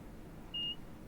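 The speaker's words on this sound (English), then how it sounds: "That would be the bell signal, the buzzer signal." A single short electronic buzzer tone signals a train's doors in Train Simulator 2021, a clean steady beep lasting about a quarter second, faint over a low rumbling cab background.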